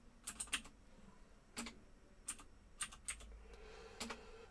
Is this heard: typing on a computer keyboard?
yes